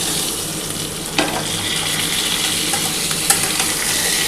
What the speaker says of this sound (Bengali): এই যে আলু আর পটল একসাথে দিচ্ছি, আর এই পটলটা একসাথে দিয়ে দিলাম।